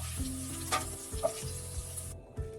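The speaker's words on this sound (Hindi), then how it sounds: "2 से 3 मिनट प्रॉन्स फ्राई करना है।" Prawns fry in hot oil in a pan after shallow-fried potatoes, giving a steady soft sizzle with occasional stirring clunks and scrapes, close and moderately quiet, with no talk.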